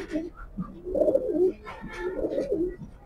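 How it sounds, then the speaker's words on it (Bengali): A female pigeon of the grizzle breed coos up close in soft, repeated throaty phrases, two longer bursts with a short pause between, alone without talk. "এটা হলো মাদি কবুতর"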